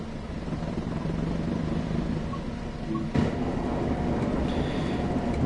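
A diesel passenger train on the Northern Trans Pennine route in Train Sim World 4 rumbles steadily with a low, continuous engine drone, and a brief clank and a faint higher whine join partway through, with no speech.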